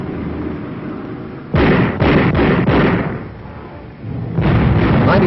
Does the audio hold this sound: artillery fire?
yes